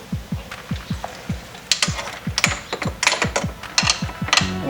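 A hand wrench ratchets a nut tight on the A-arm brace of a 2015 Polaris Scrambler, a close, quick series of rhythmic clicks with a few sharper metallic knocks toward the end.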